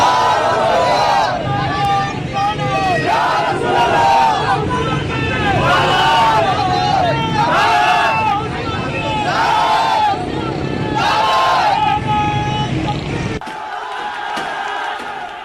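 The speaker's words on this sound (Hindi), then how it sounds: "भीड़ में शामिल लोग सर तन से जुदा के नारे लगाने लगे।" A large crowd in Sindh, Pakistan chanting slogans in unison, loud rhythmic shouted phrases repeating in waves over a dense roar of voices, cutting off near the end to quieter background murmur.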